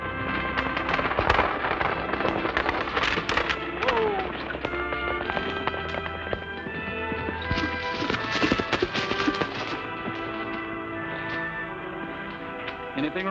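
Horses pull a stagecoach, their hooves clip-clopping with rattling, clattering wheels and harness noise under a loud, busy film soundtrack, steady and close throughout.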